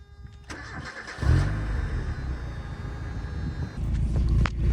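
A 1996 Mazda MX-5 Miata engine with stock exhaust cranks and catches around one second in, then settles into a loud, steady idle with a deep exhaust rumble and a brief rev near the end.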